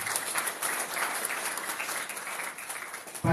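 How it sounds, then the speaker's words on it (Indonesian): Dense applause from a crowd greeting the candidate participants at an Ansor and Banser basic training gathering, steady and even for a few seconds at moderate distance. "Tepuk tangan untuk seluruh calon peserta."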